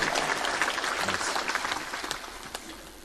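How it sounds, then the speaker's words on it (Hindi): A crowd at a religious discourse applauds in unison, a continuous even wash of hand clapping that holds steady and then thins slightly toward the end. "ताली इसलिए बजवाता हूं"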